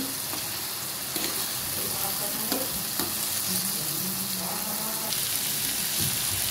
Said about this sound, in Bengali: এবার আমি নাড়াচাড়া করে নিচ্ছি চিনিটা দেওয়ার পরে।